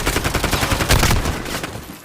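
Rapid gunfire in the video game Call of Duty, a dense run of loud close shots in quick bursts lasting about two seconds without talk.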